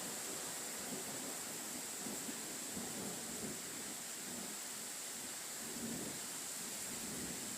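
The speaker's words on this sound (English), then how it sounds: "Listen to that thunder." Thunder rumbles low and distant beneath steady, dense rain during a tornado outbreak storm, a continuous wash of noise with no voices.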